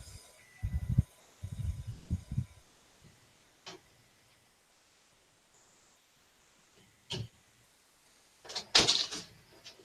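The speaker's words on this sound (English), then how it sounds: "I was opening my door" A door being opened indoors: several low knocking and rattling bumps in short bursts, a couple of isolated clicks, then a louder creaking scrape and clunk near the end, against a quiet background.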